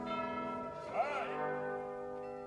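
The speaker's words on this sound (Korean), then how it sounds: "시간을 알리는 종소리," Orchestral bell chimes strike the hour in the overture to Die Fledermaus at the Vienna Philharmonic New Year's Concert 2022, one bright struck tone ringing over sustained orchestral strings and fading gently.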